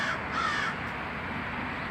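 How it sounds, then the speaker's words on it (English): A crow caws from a tree outdoors, a few harsh calls in the first part of the clip over steady background noise, with no talk. "we've got a crow in the tree here as well."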